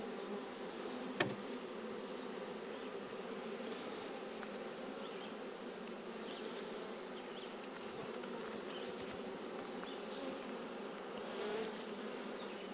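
Honey bees drone steadily at an open hive during an early inspection of a colony newly moved from a nuc, a dense continuous buzz close by with one brief sharper click near the start and no voices.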